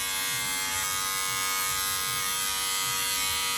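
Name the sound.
electric hair clipper with grade 2 guard cutting hair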